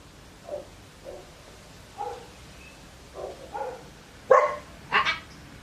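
A dog barks in a scattered series, starting with a few faint yips and building to several louder barks near the end.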